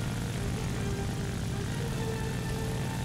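An I-185 (M-82) propeller aircraft engine in the video game War Thunder drones steadily at moderate level, a constant low throbbing hum with a faint higher whine and no talk.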